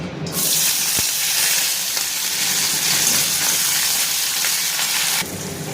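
Pumpkin pieces and jackfruit seeds fry in hot oil in a pan, a loud, dense, continuous sizzle close up that runs steadily before easing slightly at the end.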